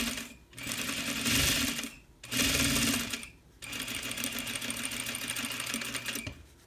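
A sewing machine runs in two short bursts and then one longer steady run while stitching a mini bag, its needle chattering rapidly and close by with brief pauses between runs.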